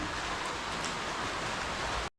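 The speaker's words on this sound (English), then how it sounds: "we are in here and it's raining." Steady rain falls outdoors in a dense, even hiss of drops, moderately loud and continuous, then cuts off abruptly at the end, with no voices.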